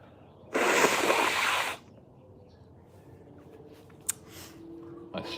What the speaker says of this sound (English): pardon me while I blow my nose.